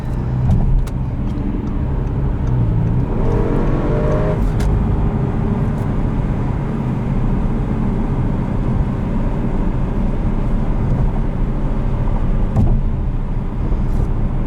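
A 2014 Audi RS7 engine pulls hard under throttle, a loud, continuous roar with a rising pitch early on, heard from inside the car over steady road and wind noise.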